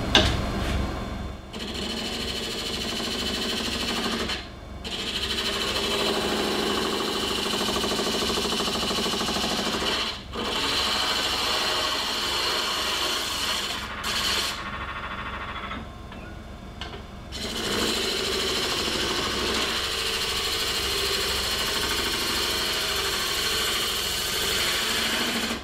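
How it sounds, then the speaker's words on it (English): A bowl gouge is sharpened on a grinder that runs in a continuous loud steady whine, close by, with a few brief dips where the tool is lifted away. "I just had to sharpen my bowl gouge up"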